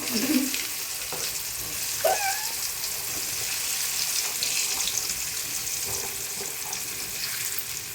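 Large gooseberries are sautéed in oil for a pickle. A soft, continuous sizzle is heard up close, with a few light stirring scrapes and clinks and no voices.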